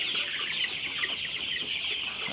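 Sonali chickens cluck steadily in a busy farm flock, a continuous layered chatter of hens close by, no voices.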